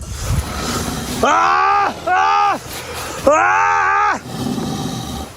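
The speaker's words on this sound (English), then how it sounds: "the camper resorts to a bold move, yelling" A camper at a tent yells repeatedly to drive off a bear, giving three long, loud, strained shouts with short gaps between them and rough outdoor noise around them.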